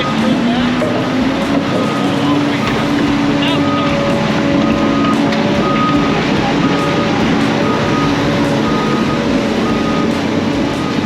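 Tracked dump truck reversing, its steady beeper repeating in an even rhythm over loud engine rumble, with people talking nearby.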